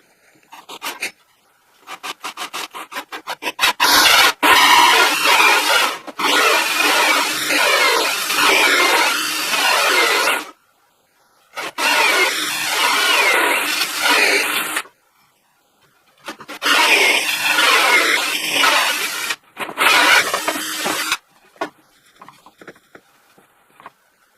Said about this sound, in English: I'm going to drill a 1 3/4 inch hole right in the center here with a hole saw